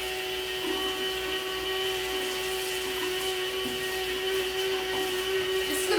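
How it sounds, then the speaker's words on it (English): A food processor spinning granulated sugar into powdered sugar in a home kitchen, a steady, even motor whir with a grinding edge that holds for the whole stretch and swells slightly near the end, with no talking. "Put it in a food processor and blend it."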